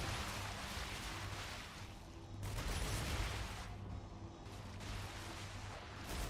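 Defensive turrets in the game Star Rupture fire continuously at attacking enemies, a dense, rapid barrage of shots that surges and eases in waves at fairly low volume.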